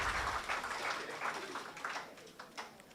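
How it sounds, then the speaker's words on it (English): An audience at an entrepreneurship grants anniversary ceremony in Jamaica applauds a government minister, a faint, distant patter of clapping that gradually thins out over a few seconds. "Give him a round of applause again for me, please"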